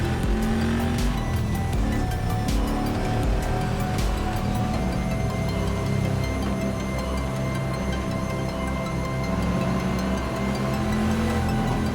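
Prototype race cars in the rFactor 2 video game at Suzuka in the rain, engines droning steadily loud with hissing spray and tire noise throughout.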